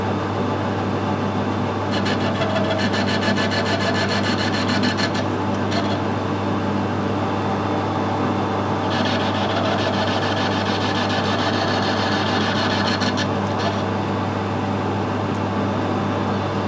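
Machine cutting the angle on a steam waggon's valve face during a valve repair: a steady mechanical hum throughout, with rasping, grinding bursts of cutting around the second to fifth seconds and again later, with no talk.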